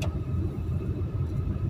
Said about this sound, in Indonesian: Inilah suasana Jakarta ya, macet dibarengi dengan hujan.